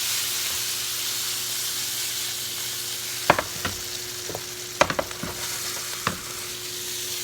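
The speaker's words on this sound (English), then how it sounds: "Got a nice little sizzle on it." Steady sizzling hiss of food frying in a pan, with a few sharp clinks and taps of a utensil stirring near the end.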